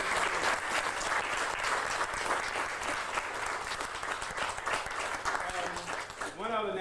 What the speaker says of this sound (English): I think we need to give him another applause for keeping his word